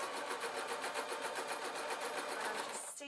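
A sewing machine runs steadily, stitching a seam on layered gossamer fabric with a fast, even rattle of needle strokes, close and continuous before stopping abruptly near the end, with no talking.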